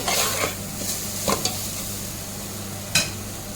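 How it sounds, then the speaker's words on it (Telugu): Masala frying in a pan for a fish curry with rice, a steady crackling sizzle with several distinct spoon scrapes and taps against the pan, close and moderately quiet. "పచ్చి వాసన పోయి మంచి స్మెల్ వస్తుంది అంతవరకు మనం ఫ్రై చేసుకోవాలి"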